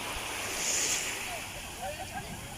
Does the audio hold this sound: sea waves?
yes